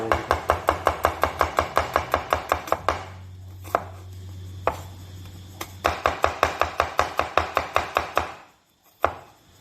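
Vegetables being sliced quickly with a knife on a cutting board, a fast even run of crisp chopping strikes, close and loud, pausing briefly twice before resuming and then stopping.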